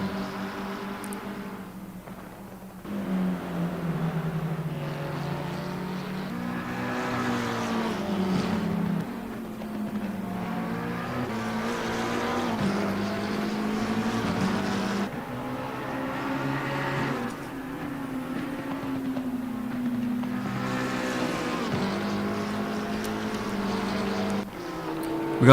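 McLaren 720S GT3 race cars at Brands Hatch in Assetto Corsa Competizione, engines droning steadily with rising and falling pitch as they accelerate and shift, a continuous close roar over the whole stretch.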